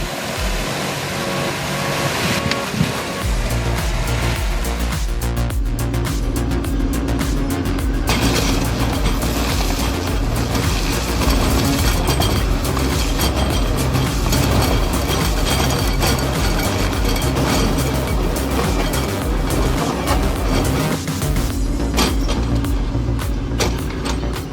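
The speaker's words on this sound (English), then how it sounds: "AHWI Raptor 300 tearing through bulk and brush, 275 HP." An AHWI Raptor 300 tracked forestry mulcher with 275 HP, steel tracks and carbide teeth grinds through brush, a loud, dense roar of engine and shredding that runs continuously and close throughout.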